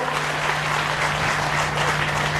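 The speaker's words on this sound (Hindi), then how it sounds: "इसके लिए एक बार जोरदार तालियां बजा दीजिएगा।" A crowd at a Gau Katha religious gathering applauds in a sustained, loud wash of clapping with a steady low hum underneath and no talk.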